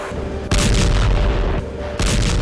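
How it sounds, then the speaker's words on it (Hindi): Gunfire and explosions during a Houthi attack, with heavy booming blasts that swell and cut off twice over a steady roaring background, loud and close. "हूती का अब तक का सबसे बड़ा हमला, यह देखिए जरा।"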